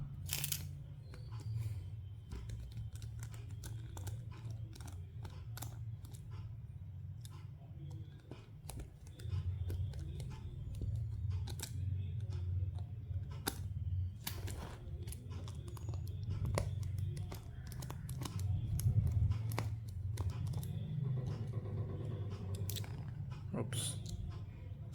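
Small screws being undone on a Mi Max smartphone during a teardown, giving faint scattered clicks and scraping taps against a steady low room hum, with a voice talking now and then.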